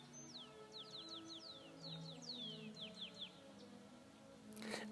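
Small birds chirp outdoors in a quick series of thin, descending whistled calls, fairly faint over a quiet background hum, with a short burst of noise at the end.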